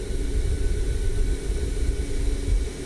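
A Boeing 787-9 Dreamliner landing in Microsoft Flight Simulator gives a steady, broad engine roar with deep rumble, loud and unbroken throughout.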